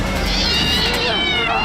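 A cat shut in a box in the film Alien lets out a loud, drawn-out wavering meow, sustained and close, with a second rising cry at the end.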